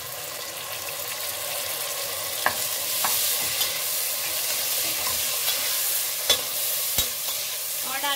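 Tomatoes and green chillies tipped into frying onions for an egg biryani, giving a steady close sizzle with stirring scrapes and a few sharp utensil knocks throughout.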